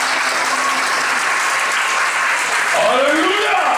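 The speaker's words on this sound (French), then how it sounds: "Je veux des acclamations pour Jésus" A congregation at a Friday night prayer vigil in a church breaks into loud, sustained cheering and applause, a dense wash of clapping and voices with a preacher's voice rising over it near the end.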